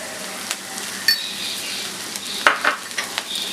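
Green capsicum being stirred and sautéed in a pan with chilli powder and salt, a steady quiet sizzle broken by occasional sharp clinks of a spoon against the pan, close by, with no talking.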